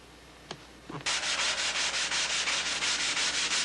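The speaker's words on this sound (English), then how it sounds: "I like to pre-sand all the parts" After a couple of soft knocks, rhythmic sanding of foam wing parts begins: steady back-and-forth rasping strokes, close and fairly loud, repeating evenly.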